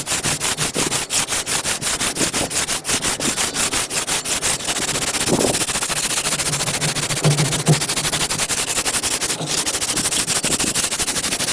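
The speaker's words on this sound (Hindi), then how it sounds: "थोड़ा सा पहले इसको रेगमाल मार लेना है" Sandpaper rubbed by hand across the rusty face of an engine block, a loud, continuous gritty scraping with fast back-and-forth strokes close up.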